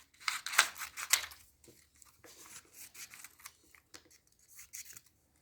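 Paper being cut for a school mammals science project with scissors, a run of close, crisp snips and rustles, louder at first and then lighter, irregular strokes, with no talking.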